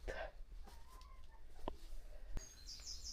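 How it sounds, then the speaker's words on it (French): A feather-footed hen perched by an apartment door near a caravan in the Netherlands gives a few faint, scattered clucks amid outdoor background noise, with a brief higher call near the end. "Il y a une poule qui est montée à la porte de l'appartement."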